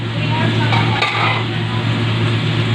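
Guso seaweed salad being stirred with vinegar, a continuous close, wet mixing rustle with faint clinks of a utensil against the bowl.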